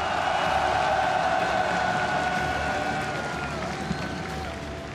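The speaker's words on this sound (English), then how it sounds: "Une dernière fois pour les deux équipes, s'il vous plaît, un tonnerre d'applaudissements." A large arena crowd at the League of Legends MSI 2018 semi-final in Paris breaks into sustained, dense applause and cheering for both teams, loud and steady for the whole stretch and easing slightly toward the end.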